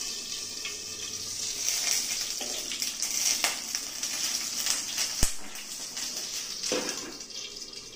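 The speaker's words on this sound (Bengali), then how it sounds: "আর সামান্য একটু কালো জিরে ফোড়ন দিলাম। এগুলো একটু নাড়িয়ে নেব, একটু গন্ধ বেরোবে। এই সময় খুব ফোটে, সাবধান, ঢেকে দেবেন।" Nigella seeds are tempered in hot oil for a black pomfret fish curry, giving a continuous bright, hissing sizzle with crackles and one sharp pop near the middle.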